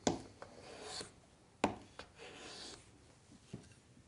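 A Lie-Nielsen large format block plane takes a test cut on wood, giving a few brief, faint shaving swipes spaced apart, separated by quiet pauses.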